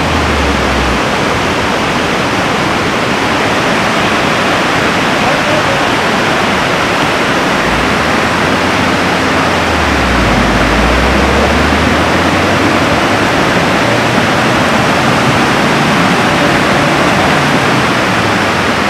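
Rushing stream water in a mountain nala on the Manali–Kaza route, where a Santro car is stuck in the water, roars loud and steady as a broadband wash, with a low rumble swelling partway through.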